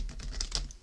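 Rapid, close, soft papery clicks and flutters of a deck of playing cards being shuffled, a brief burst of quick riffling taps without talking.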